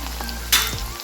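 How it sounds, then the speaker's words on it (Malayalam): Mango pieces dropped into sesame oil for a dry mango pickle, a short crackling sizzle near the pan that swells suddenly midway and then settles. "നമുക്ക് മാങ്ങ കുറേശ്ശെ ഇട്ടിട്ട് വറുത്തെടുക്കാം"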